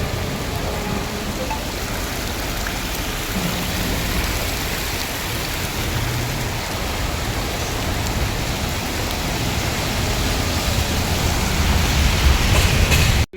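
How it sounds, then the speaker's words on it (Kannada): Steady rain pours down on the way to an airport, a dense, continuous hiss that swells slightly louder toward the end, with no voices. "ಇವತ್ತು ಮಳೆ ಬರ್ತಾ ಇದೆ ನೋಡಿ"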